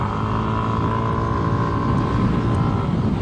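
A Yamaha Aerox Alpha Turbo scooter engine on a race circuit drones continuously at high revs, loud and close with a constant hum and faint wind rush, no pauses.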